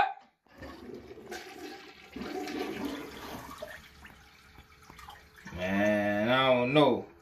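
An uncloggable toilet flushes with rushing, swirling water that builds and drains, and a voice cuts in near the end.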